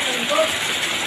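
Heavy rain and wind from Typhoon Kristine make a steady, loud broadband hiss that fills the short clip without a break.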